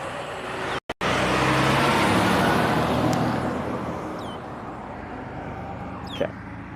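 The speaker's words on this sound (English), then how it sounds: "A Swift truck." A Swift truck drives past on a roadway, its broad engine and tire rumble rising and then fading over steady traffic noise, followed by a faint distant passing vehicle.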